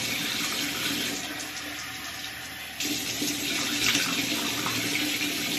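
A shower runs steadily while someone wets their face, a close, even hiss of falling water that changes character partway through as the spray is interrupted and resumes.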